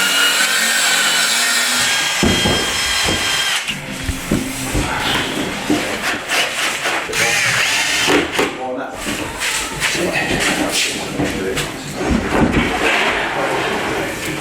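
Wood pieces are cut for a bespoke handmade kitchen, with irregular rasping, scraping strokes and knocks that come thick and close throughout while voices talk over them.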